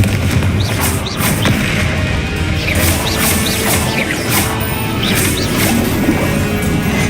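Explosive Confringo spell blasts in the video game Hogwarts Legacy, repeated booming crashes over a dense, loud rumble of combat effects.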